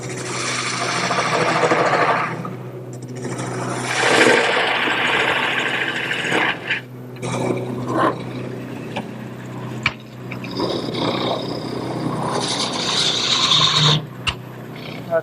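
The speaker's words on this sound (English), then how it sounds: "I'm going to go to my largest gouge and start roughing it out." Wood lathe spinning a long bedpost blank while a large gouge roughs it out, giving continuous rasping, scraping cuts that rise and fall in bursts over a steady motor hum.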